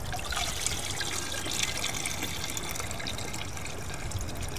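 Liquid worm tea is strained, giving a steady continuous trickle and splash of pouring liquid, close and even throughout with no breaks.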